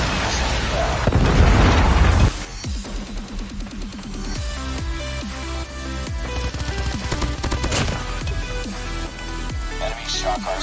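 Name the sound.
Predator missile strike exploding in a Call of Duty video game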